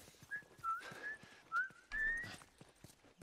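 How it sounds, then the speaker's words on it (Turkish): A character whistles a short, wavering tune in the video game The Last of Us, several quiet melodic phrases with soft footsteps or clip-clop sounds in the background. "Birileri ıslık çalıyor."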